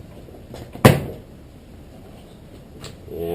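A plastic screw cover pops out of a Honda Del Sol door panel with one sharp, close click, followed by light handling rustle.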